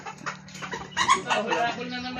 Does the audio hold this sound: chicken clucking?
yes